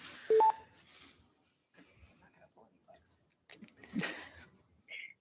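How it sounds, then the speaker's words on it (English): Telephone keypad tones during redialing of a dropped call, two short pure beeps near the start, followed by quiet rustling, breathing and faint mouth noises in a still room. "My phone just dropped the call and I dialed right back."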